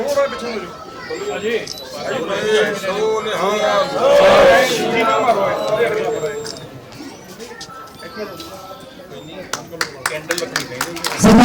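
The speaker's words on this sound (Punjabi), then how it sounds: "ਇੱਕ ਵਾਰੀ ਜ਼ੋਰਦਾਰ ਤਾੜੀਆਂ ਦੇ ਨਾਲ ਸਵਾਗਤ ਕਰੀਏ ਸਾਡੇ ਮਹਿਮਾਨਾਂ ਦਾ" An audience at a Punjabi cultural program applauds to welcome guests, with clapping and crowd chatter building under an announcer's voice and sharper bursts of claps toward the end.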